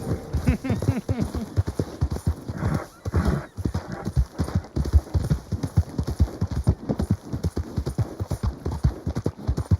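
Horse hooves clip-clopping in a Western-themed video game, a brisk, steady rhythm of sharp close-up hoofbeats at a trot across the whole stretch, with a faint tonal hum behind.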